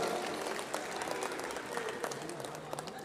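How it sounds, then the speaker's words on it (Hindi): Large crowd applauding at a political rally in Jawaharlal Nehru Stadium, New Delhi, a dense, steady wash of clapping that fills the space, with a voice faintly audible underneath. "दोनों हाथ जोरदार तरीके से उठा के ताली बजा के करिए समर्थन का ऐलान"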